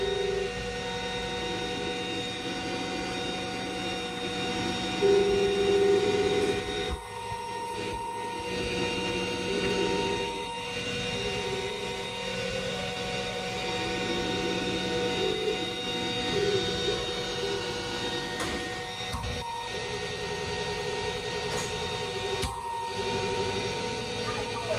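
A Glowforge Pro laser cutter works through quarter-inch Baltic birch, cutting shark teeth: a continuous droning fan and motor hum with steady tones, occasional brief dropouts and shifts as the head moves, no speech.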